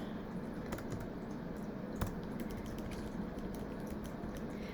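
Quick, uneven keystrokes clatter on a computer keyboard during data entry, close and fairly soft, with a steady low room hum underneath and no talking.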